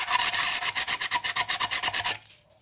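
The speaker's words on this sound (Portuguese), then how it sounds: "lixar aqui com uma lixa um pouco mais grossinha o fundo aqui, ó, dos três copos" Coarse sandpaper rubbed back and forth across the bottoms of cups in a desk-organizer craft, a rapid run of about twenty close, loud rasping strokes that stop abruptly, leaving quiet.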